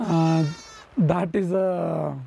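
A baby goat bleats indoors at a shepherd's camp in a rainy forest: a long wavering bleat, then more bleats mixed with someone talking nearby.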